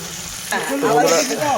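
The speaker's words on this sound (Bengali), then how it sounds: "দারুণভাবে মাছগুলো ভেজে নিচ্ছে" Boal fish fry in hot oil with a close, loud crackling sizzle that swells midway and bubbles on unevenly, with no talking.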